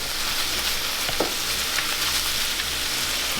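Meat seasoned with Montreal and taco seasoning fries in a pan with a dense, continuous sizzle that runs steadily and fairly loud from start to end.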